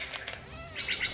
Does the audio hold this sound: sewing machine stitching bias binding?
no